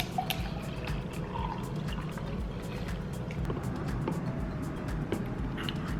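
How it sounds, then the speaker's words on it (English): Cold brew coffee is poured into a glass, a steady liquid trickle and splash running throughout with small clinks and taps over a low background rumble. "So I'm pouring my cold brew in."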